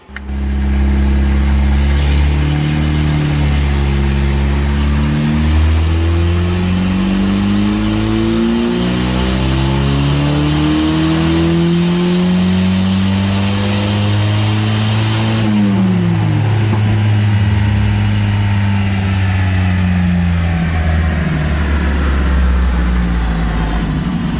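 A turbocharged engine with an old 8-valve head, boost turned up, revs hard in repeated climbing pulls, loud and close, with a turbo whine rising above the engine note before it drops back.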